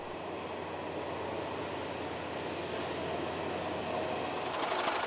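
A British diesel locomotive hauling a passenger train rumbles past steadily with a deep engine drone and rhythmic wheel clatter, loud and continuous throughout.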